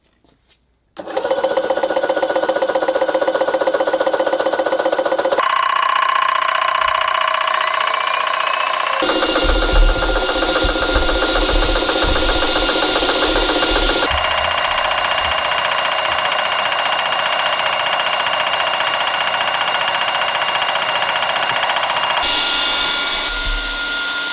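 An AEA 7000psi high-pressure compressor starts and runs a fill, loud and close, with a steady mechanical drone and whine whose tone shifts in distinct stages as the pressure builds.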